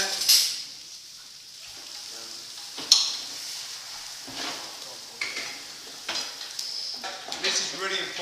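Onions sizzle and saute steadily in a pan, with occasional stirring scrapes and clinks of utensils over a continuous frying hiss.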